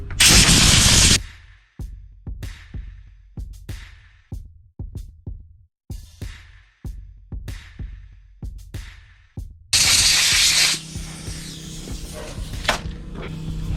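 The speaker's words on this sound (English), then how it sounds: "Get our air compressor." An air compressor nozzle blasts air at an RC car during cleaning, a loud hissing burst at the start, then a string of short clicks and taps, and another long blast near the end.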